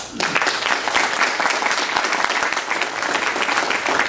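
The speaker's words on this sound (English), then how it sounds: "I think you both deserve a round of applause." Loud, dense audience applause at a labour council debate on housing and income, a continuous close roar of many clapping hands lasting several seconds.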